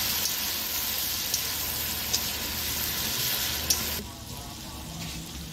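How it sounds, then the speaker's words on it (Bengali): Garlic fries lightly in hot oil in a pan, a steady close hiss with a few faint clicks, which drops abruptly to a quieter simmer near the end. "রসুনটাকে হালকা করে ভাজবো"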